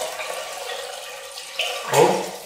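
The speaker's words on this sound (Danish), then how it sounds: "jeg hælder stille og roligt min citronkefir op" Homemade lemon kefir is poured slowly into a container, a soft steady liquid trickle that swells into a fuller splashing gush near the end, heard close with no talking.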